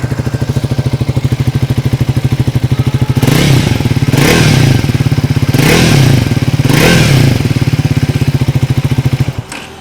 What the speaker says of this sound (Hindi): ओके, तो कुछ ये रहेगा पहले एग्जॉस्ट नोट